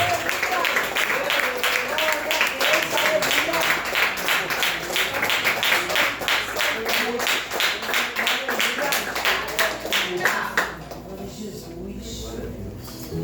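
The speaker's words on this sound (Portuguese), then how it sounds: "As palmas louvam ao Senhor" Rhythmic clapping from a church congregation keeps a steady beat for several seconds, then fades out, with a voice talking over it.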